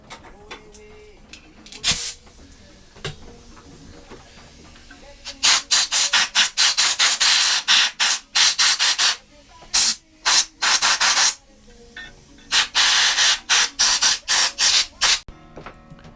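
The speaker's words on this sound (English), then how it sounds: "Absolutely full of stuff in there, so I'm bringing the air compressor again." An air compressor blowing packed grass out of a lawnmower engine's heat shield, heard as sharp, loud bursts of hissing air in quick repeated blasts separated by short quiet gaps.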